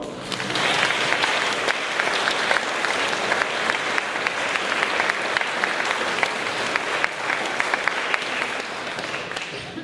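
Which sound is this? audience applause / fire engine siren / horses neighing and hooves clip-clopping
audience applause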